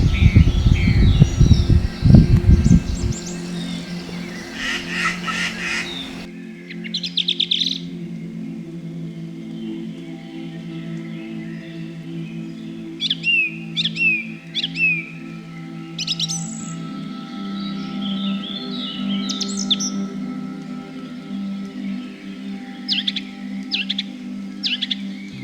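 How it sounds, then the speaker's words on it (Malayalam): Morning birdsong in the forest at Gavi, including a white-bellied treepie: scattered chirps and calls over several seconds, a loud close burst at the start, then repeated clear tweets over a steady low background. "രാവിലെ പലതരത്തിലുള്ള പക്ഷികളും അവയുടെ പാട്ടുമെല്ലാമായാണ് കാട് നമ്മളെ ഉണർത്താറുള്ളത്."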